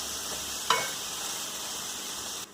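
Ground meat browns in a hot pan for a tater tot casserole, giving a steady close sizzle with one sharp stir or clatter midway and a brief drop in level near the end.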